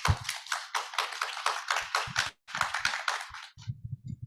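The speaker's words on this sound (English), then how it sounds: "Let's please have another round of applause." A round of applause from an online youth energy summit audience: dense, steady clapping fills most of the stretch, pauses briefly, then resumes before thinning into a few scattered claps and taps at the end.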